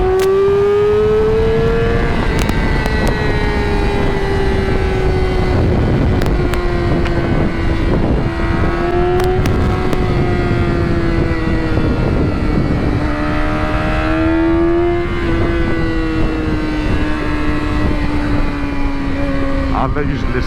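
A loud motorcycle engine holds a steady, rising and falling drone, revving up and easing back in waves, close to the microphone with wind buffeting throughout.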